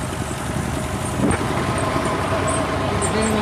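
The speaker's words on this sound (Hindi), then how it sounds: "ये जी देखें जी ट्रैक्टर से चल रहा है।" A tractor engine running a tubewell water pump on a farm, a loud steady rumbling drone that holds evenly throughout with little variation, heard up close.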